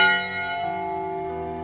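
A church bell tolls once at a memorial bell-ringing service for Sandy Hook, its struck tone ringing out and slowly decaying with a sustained hum, alone without voices.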